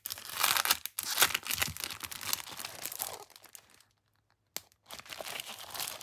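A crinkly acetate paper sheet being handled during a subscription baby box unboxing, giving bursts of crisp crackling and crumpling that stop briefly near the end before one sharp rustle and more crinkling.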